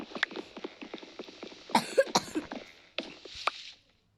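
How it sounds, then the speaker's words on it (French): Someone coughs in a string of short, close bursts after choking on a candy, fairly quiet overall, with a pause before a final pair of coughs. "Et du coup, j'ai toussé."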